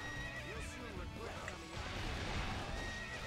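A horse neighs and whinnies in a Battle of Red Cliffs (Chibi) video game, with a brief clip-clop of hooves, all faint and alone.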